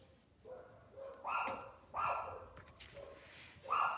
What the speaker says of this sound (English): Somebody heard something, or a neighbor might be walking his dog Oliver.